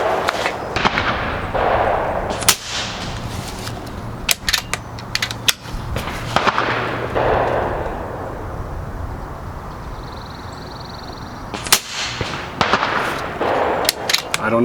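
Sharp, loud shots from a Kral Puncher Mega .22 PCP air rifle fired outdoors at a 75-yard target, several cracks spaced irregularly across the stretch, with quieter handling sounds between them.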